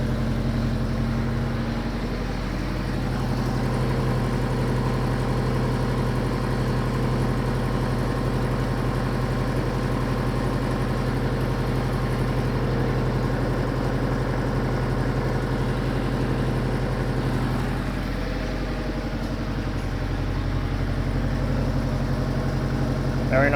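A Subaru engine, freshly started after sitting unused for four weeks and fitted with new under-hood insulation matting, idles with a steady, even low hum that holds close and unchanging throughout.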